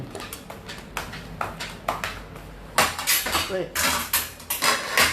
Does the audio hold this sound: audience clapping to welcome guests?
no